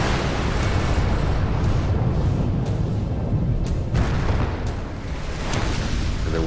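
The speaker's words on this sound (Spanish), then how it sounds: "Hubo una gran explosión con una potencia equivalente a la de una explosión nuclear." A dramatized rendering of the 1908 Tunguska explosion over Siberia: a sustained, loud, rumbling roar of dense broadband noise that continues throughout with only slight swells, with no single sharp bang.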